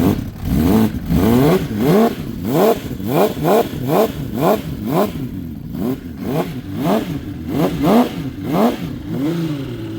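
A Honda CBX motorcycle engine, freshly started, is revved again and again in short rhythmic blips, loud and close with a mechanical clatter between revs and no talking.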